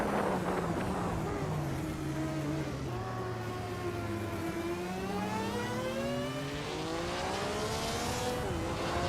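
Race cars roaring around a track in a video game, including a 1984 Grid S1 Omnivore, with engine notes rising and falling through gear changes as several cars pass close, loud and continuous.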